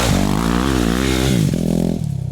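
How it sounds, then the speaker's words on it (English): A Yamaha WR250R fitted with an FMF Q4 exhaust revs loudly up close, the engine note climbing and holding before dropping back toward idle. "this exhaust is really great on the FMF Q4 exhaust on the WR250R, because it does enhance the sound a bit"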